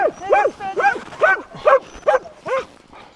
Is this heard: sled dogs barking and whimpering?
yes